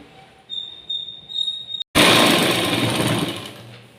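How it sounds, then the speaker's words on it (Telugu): A sewing machine runs steadily, stitching the second sleeve of a blouse; a short start-stop burst is followed by a loud, continuous close-up whir for about two seconds. "రెండవ చేయి కూడా ఇలాగే స్టిచ్ చేసుకోవాలి"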